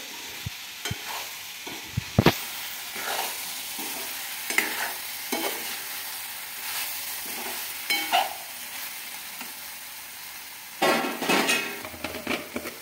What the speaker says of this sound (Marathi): आता आपले वांगी चांगले भाजले मसाल्यामध्ये फ्राय झाले.